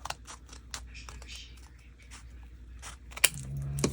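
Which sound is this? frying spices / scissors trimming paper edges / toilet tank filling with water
scissors trimming paper edges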